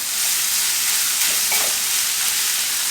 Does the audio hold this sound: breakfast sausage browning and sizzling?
yes